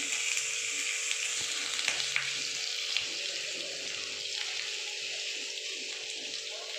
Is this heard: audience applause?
no